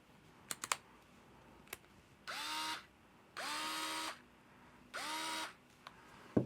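Fanttik Nex SI Pro electric screwdriver whirs in three short bursts of about half a second each, each with a rising motor whine, separated by quiet pauses and a few faint clicks.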